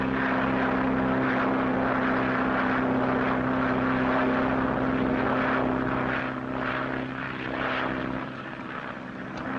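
Steady loud drone of a propeller-driven airplane engine in flight over the Atlantic in the 1930s, a continuous hum with a strong low tone that eases slightly toward the end, with no talking.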